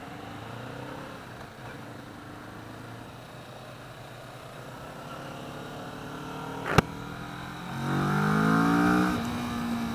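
A 2015 Kawasaki Vulcan S Extended Reach cruiser motorcycle engine hums steadily, then surges louder as it accelerates near the end, with wind noise and a brief sharp knock in between.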